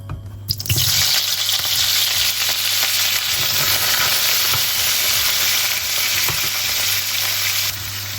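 Frozen cauliflower florets sizzle loudly in hot oil in a pan for aloo gobhi, a steady dense hiss starting abruptly and holding throughout, with faint stirring knocks underneath.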